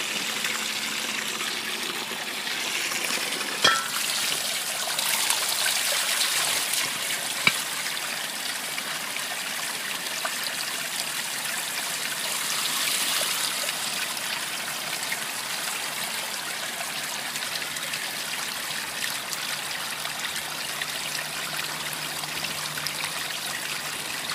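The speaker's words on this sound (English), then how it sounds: "So it's that quick to fill 3 gallons." Spring water runs steadily from an outlet into a 3-gallon jug, a continuous close trickle and gush with no talk over it, the flow holding even throughout.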